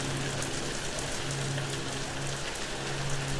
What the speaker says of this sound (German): Außerdem es regnet doch.